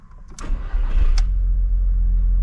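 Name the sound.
car engine running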